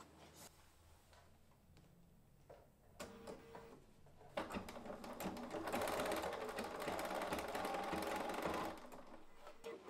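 Overlock sewing machine stitching a pair of panties: a few quiet handling clicks, then a rapid, steady mechanical whirr that builds and runs for several seconds before stopping.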